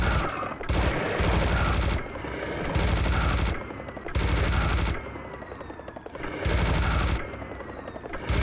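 Gunfire in Serious Sam: The First Encounter, heard as loud, dense bursts of shooting about a second long, repeated roughly every second with short gaps and no talk.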